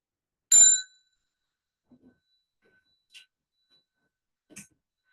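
A meditation bell is struck once before Buddhist prostrations, a bright ringing ding that rings out briefly, followed by a few faint taps and small distant sounds in an otherwise quiet room.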